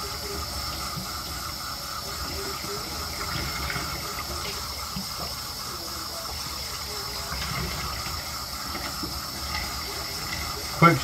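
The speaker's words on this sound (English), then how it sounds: "Quick rinse in lukewarm water." Lukewarm water runs and splashes steadily as a dug-up, embossed old glass bottle is given a quick rinse, a continuous close gush with small sloshes throughout and a brief clunk at the very end.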